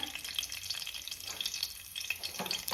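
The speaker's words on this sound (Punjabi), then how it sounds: "ਜੀਰੇ ਨੂੰ ਆਪਾਂ ਥੋੜਾ ਜਿਹਾ ਭੁੰਨ ਲੈਣੇ" Cumin seeds frying in ghee for paneer bhurji, a faint, close, crackling sizzle with tiny pops, continuous and unbroken by talk.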